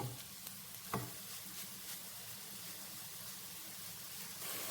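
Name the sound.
stirring onions frying in a pan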